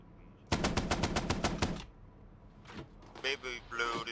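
A tank's coaxial machine gun fires in a video game, a rapid burst of about nine sharp shots followed by scattered mechanical clanks, with voices nearby.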